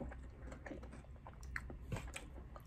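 Steady, close chewing of a Mr Beast crunch chocolate bar with crisp bits inside, giving soft repeated crunching and squishy mouth sounds over a few seconds, without speech.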